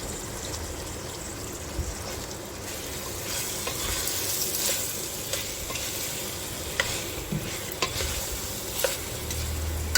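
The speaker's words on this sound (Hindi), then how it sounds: "अब है मेरे पास ये लोबिया और अदरक, ये मैं इसमें डाल रही हूँ।" Black-eyed peas and ginger frying in a pan, giving a steady soft sizzle while a utensil stirs them with scattered scraping clicks, close by and fairly quiet.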